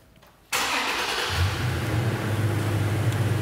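A car engine turns over and fires up abruptly, jumping from near quiet to a loud, steady close idle with a low rumble that holds through the end.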